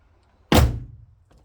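The hood of an Audi A4 B7 is shut once with a single solid, close thunk that decays quickly into quiet.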